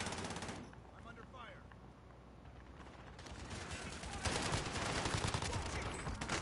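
Machine gun fire from the video game Warzone on Rebirth Island, dense bursts that swell louder in the second half, with overlapping gunfire and clutter throughout.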